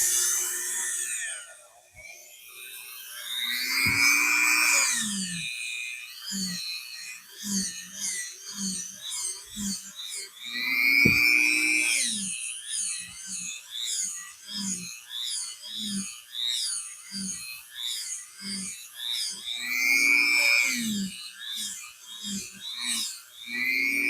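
A drill spinning cheap wire brush bits against metal, whining in repeated bursts that rise and fall in pitch, with short rhythmic pulses between longer passes, close and loud.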